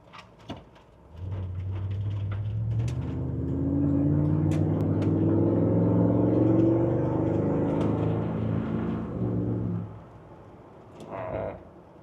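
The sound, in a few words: LS3-swapped Range Rover Classic driving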